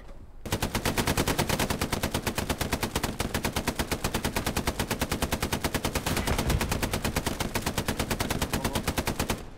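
Sustained automatic gunfire from Hell Let Loose, a World War II shooter: a long, rapid, steady burst of machine-gun shots running nearly ten seconds, loud and close with no talk.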